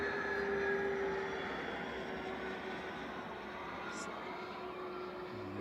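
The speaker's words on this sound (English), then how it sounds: "And there's the landing gears going down." Cessna Citation business jet on approach to land at Manchester Airport with its landing gear lowered, a steady distant engine roar and whine running throughout under faint background noise.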